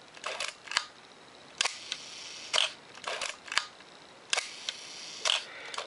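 Film camera shutter firing repeatedly at its slow 1-second speed, each release a crisp close click followed by a second click as it closes, with brief winding noises between firings and no talk.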